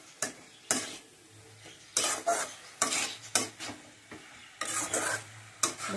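Burmese greens with slit green chilies are stirred in a pan, with repeated scraping strokes of a utensil against the metal and a soft sizzle between them, close and fairly quiet.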